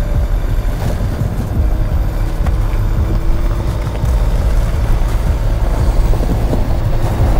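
Land Rover Defender on studded tyres rolling onto ice, a steady low vehicle rumble with crunching, gritty texture running continuously and fairly loud throughout, no voices.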